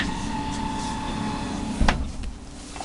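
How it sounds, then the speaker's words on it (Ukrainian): A steady mechanical hum inside an Electron tram in Lviv, broken by a single heavy clunk as doors release and slide open. "Обережно двері відчиняються."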